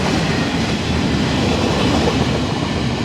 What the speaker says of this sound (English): A good diesel running down there, blowing a bit of chuff out.